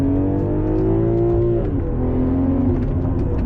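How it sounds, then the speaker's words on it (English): BMW M340i with an MHD Stage 2 tune revving its engine, a deep, loud exhaust drone close by, the pitch rising then easing back and settling, steady throughout with no talk. "it has like a deep sound when you're revving it"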